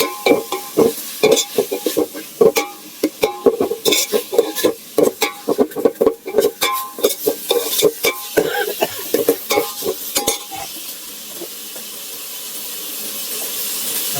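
Tomatoes are tipped into a hot frying pan and stirred, with rapid scraping and clattering of a spoon against the pan over a steady sizzle that continues after the stirring stops.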